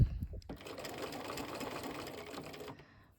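A sewing machine stitches across the zipper teeth of a cushion back, a close, steady mechanical whirr lasting a few seconds before stopping, with no talk.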